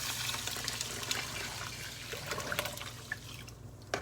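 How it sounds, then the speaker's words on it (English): Eight cups of water are poured into a pot holding four cups of rice, giving a continuous splashing, gurgling pour that runs steadily throughout. "I'm going to add 8 cups of water"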